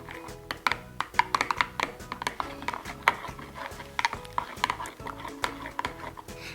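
Spoon stirring lemon juice for homemade lemonade, rapid irregular clinks and scrapes against a container, fairly close, with a steady rhythmic churn underneath.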